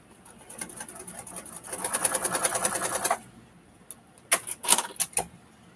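Home sewing machine stitching a short seam in quilting fabric, a fast steady mechanical whir with a high whine that runs for a second or so, stops, then gives a few short stuttering bursts; the machine needs oiling and cleaning.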